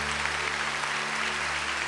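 A church congregation applauds after a Gospel reading at a Catholic service, a brief wash of steady, even clapping over a low hum.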